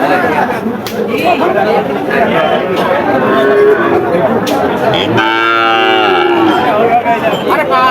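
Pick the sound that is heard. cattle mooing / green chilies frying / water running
cattle mooing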